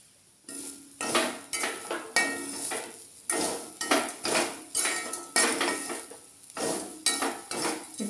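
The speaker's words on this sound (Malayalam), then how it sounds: "നല്ല ചുമന്ന നിറം വരുന്നത് വരെ വറുത്തെടുക്കാം" A utensil scrapes and clinks against a pan as whole black pepper and tamarind roast, repeated rhythmic stirring strokes close by with short pauses between them and no talking.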